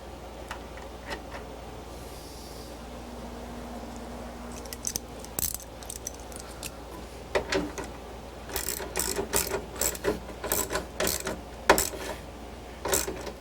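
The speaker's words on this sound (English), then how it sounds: "And we just want to snug them down. We won't want them too tight." A ratchet wrench snugs down nuts over flat and lock washers on arcade cabinet marquee hardware, giving bursts of quick ratcheting clicks that grow busier and louder toward the end; close, with a faint background hum.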